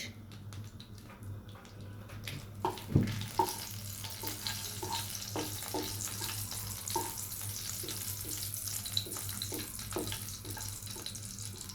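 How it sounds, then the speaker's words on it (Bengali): Bay leaves and whole dried red chillies fry in hot oil, starting with a sharper burst as they hit the pan and settling into a soft, steady sizzle nearby. "এবার আমি ভাজা তেলের মধ্যে দিয়ে দিব তেজপাতা দিয়ে দিব আস্ত শুকনো মরিচ"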